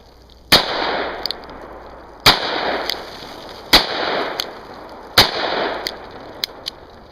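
An EAA Windicator .357 Magnum revolver fires four sharp, loud shots at roughly one-and-a-half-second intervals, each followed by a decaying outdoor echo, with fainter clicks between shots.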